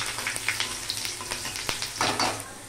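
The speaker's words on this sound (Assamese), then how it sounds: "শুকান জলকীয়া ভাজা হৈ গৈছে" Dried chillies sizzle and crackle in hot oil in a pan, with close, uneven pops and stirring scrapes over a steady frying hiss for a couple of seconds.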